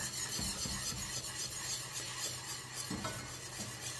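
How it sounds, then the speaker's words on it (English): Milk being whisked into a roux in a pan, a steady close scraping and stirring texture with faint sizzle underneath, continuous for a few seconds with no voices. "When you get it, all the milk incorporated, add a little bit more and just keep whisking"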